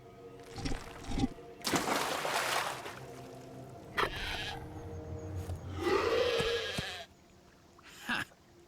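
A goat bleats in the point-and-click video game Heaven's Hope, with one wavering bleat rising out of layered game music and effects.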